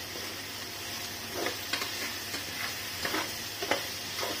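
A spoon stirs salted mixed vegetables for veg pulao inside a pressure cooker, soft scraping strokes repeating over a steady low sizzle.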